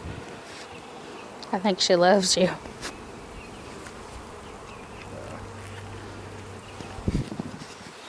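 Honey bees buzz around a hive, a steady low hum underneath while one bee whines loudly close by in a short burst; a person speaks briefly over it.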